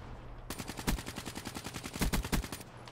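KN44 assault rifle fire in Call of Duty, a rapid steady burst of loud automatic shots in quick rhythm, a few heavier impacts among them, lasting about two seconds before stopping.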